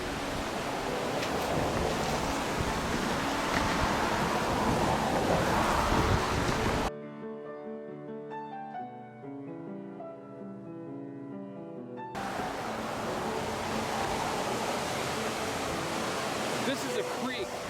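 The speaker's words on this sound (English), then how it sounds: "This is a creek." A salmon creek rushing at unusually high flow after a washout, a loud steady broadband roar, close by, broken in the middle by a few seconds of music before the water returns.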